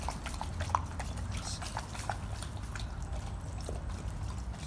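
Faint trickling and dripping water at a spot where dogs are playing, with small splashes and soft drips over a low steady background.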